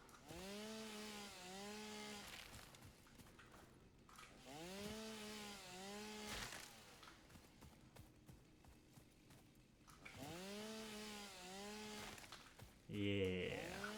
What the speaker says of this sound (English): Just enough to get the chainsaw running again.